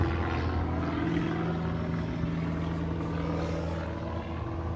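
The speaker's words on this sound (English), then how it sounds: "Another airplane." An airplane passes overhead above a garden, a steady low engine drone with a layered hum holding at moderate distance throughout, and no voices.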